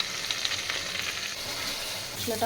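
Onion, tomato, salt, turmeric and cumin powder fry for a loach fish curry, a soft, even sizzle at moderate distance with faint stirring, no talk.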